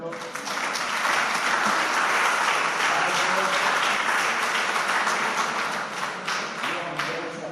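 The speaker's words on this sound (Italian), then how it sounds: "Fate un applauso con Alberto." Audience at a religion teachers' training lecture breaking into applause, a full, sustained burst of many hands clapping that swells quickly and tapers slightly toward the end.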